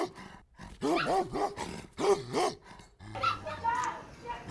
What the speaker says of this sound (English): I wonder what kind of dog they are